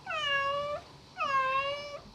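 A cat meows twice, two clear drawn-out cries close by, separated by a short pause.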